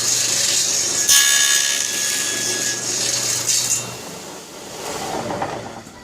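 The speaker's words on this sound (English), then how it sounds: "So now we'll make another cut." A saw cuts steadily through wood in one continuous, loud rasping pass of about six seconds, with a brief metallic clink near the start and no talking.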